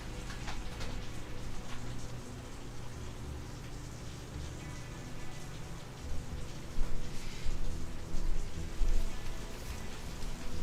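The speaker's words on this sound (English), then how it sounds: "I have an overflowing gutter and it's raining hard." Heavy rain pours with an overflowing gutter, a dense, unbroken wash of water that swells louder in surges toward the end, with no voices.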